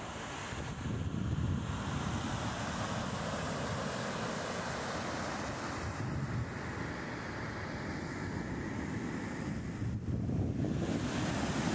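Surf breaking and wind buffeting the microphone at Praia da Paciência beach in Salvador, a continuous loud roar of waves with gusty rumble swelling near the start and end, no voices.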